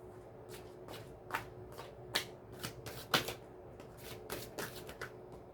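A deck of Osho Zen and tarot cards is shuffled by hand in repeated crisp riffles and flutters close to the listener, with snappy bursts of card slaps and no speech.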